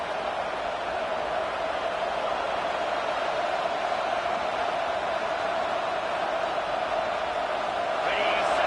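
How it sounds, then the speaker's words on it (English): A home crowd cheering in the College Football 26 video game, a steady, loud roar of stadium noise that holds evenly throughout, with a faint rise in excitement near the end. "this home crowd is fired up and ready to make a difference today"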